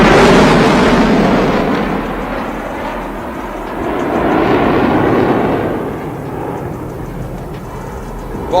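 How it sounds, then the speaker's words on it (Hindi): A Sukhoi Su-30 fighter jet roars past at an air show over the Purvanchal Expressway, a loud, broad jet-engine rush that swells, fades, then surges again. "और ये सुखोई 30 एक बार फिर यहां पर इस एयर शो के दौरान प्रदर्शन किए जा रहे हैं"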